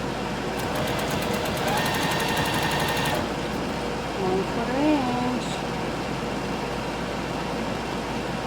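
A sewing machine runs a short quarter-inch stitch through a denim pillow cover made from old jeans, giving a fast, steady mechanical whir for about three seconds, followed by quieter handling and a brief voice.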